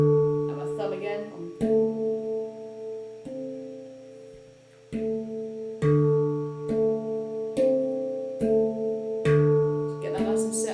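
A RAV handpan struck with the thumb and middle finger gives clear, ringing metallic tones in a steady, repeating pattern. The notes are close and sustained, with soft talk faintly underneath.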